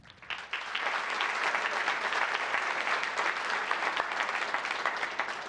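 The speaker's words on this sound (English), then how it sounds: "let's give Dr. Birdwell a big round of applause" An audience at a town council meeting breaks into applause that builds quickly after a soft start, then stays as an even, moderately distant wash of clapping.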